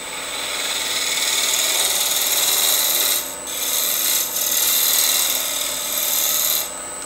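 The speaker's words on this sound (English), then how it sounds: "Take my spindle gouge, clean that surface up, and I'm turning about 1200 RPM" A spindle gouge cuts wood on a lathe turning at about 1200 RPM. The tool gives a loud, continuous rasping hiss with a few brief dips as it lifts off the spinning workpiece.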